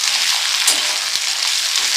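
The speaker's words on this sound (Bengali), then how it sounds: "এই করলাটাকে আর এই আলুটাকে একই সঙ্গে আমি ভেজে লাল লাল করে নেব" Bitter gourd and thick-cut potato pieces frying together in hot oil, a constant close hissing sizzle with no break.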